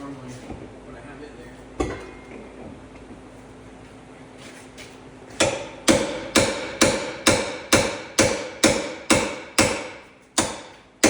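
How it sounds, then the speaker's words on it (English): A hammer strikes metal on a BMW in a workshop, starting with a single blow, then after a pause a steady run of about ten loud, evenly spaced metallic impacts close to the listener. "Big pry bar out and hammer"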